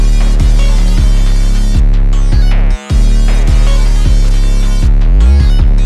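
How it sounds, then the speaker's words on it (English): Loud, booming 808 bass notes with sliding pitch in a trap instrumental remake, played in a rhythmic pattern over a sustained sine-wave tone with the low end cut, with one brief cut of silence midway. "Now we add our 808s."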